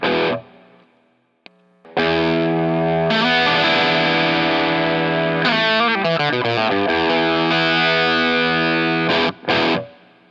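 Electric guitar runs through a Klon-style overdrive pedal at higher gain, with a short picked phrase and then sustained, distorted chords and single notes ringing loud and close before a sudden stop, with no talking.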